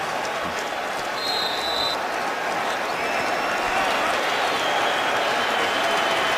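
Roaring stadium crowd at an NFL game between the Jets and Eagles in 2015, cheering after a big defensive hit by David Harris; a dense, steady wall of cheers and applause fills the whole stretch, loud and continuous.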